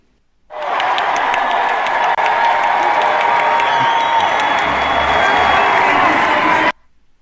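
A large crowd applauds and cheers loudly and continuously, the dense roar starting abruptly, holding steady for about six seconds, then cutting off sharply.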